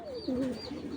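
Racing pigeons, grizzle-type birds kept in a loft, give a single short, close, throaty coo that rises and falls over about a second.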